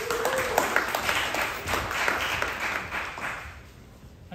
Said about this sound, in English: The best applause you can do